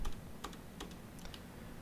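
Soft, close computer keyboard typing with a handful of scattered light key clicks, including presses of the enter key, over a faint background hum and no speech.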